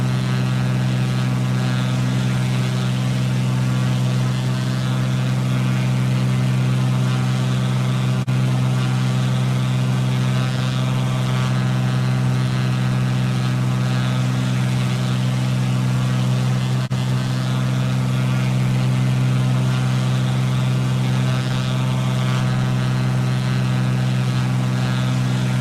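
A Cessna propeller plane in Microsoft Flight Simulator drones with a steady, loud engine hum and strong low harmonics, unbroken throughout at constant power.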